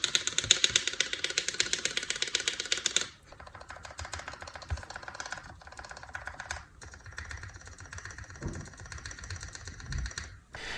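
Keycaps pressed on a D65 mechanical keyboard by KBDfans to test its stabilizers, giving a rapid, steady run of crisp, close clacks. The clacks are denser at first and then continue in sparser, irregular taps.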